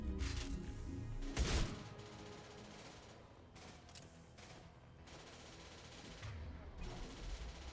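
Shotgun blasts fired at point-blank range in the video game Mass Effect 2, heard as a sharp burst followed by further rumbling gunfire and crashes, loud and dense throughout.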